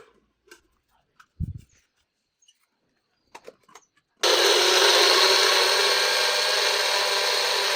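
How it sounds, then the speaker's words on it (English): A kitchen blender blending boiled water and plant matter for a colour-changing science experiment, starting abruptly after a few small clicks and handling noises, then a loud steady whirring roar that continues unbroken to the end. "Now we are going to blend it."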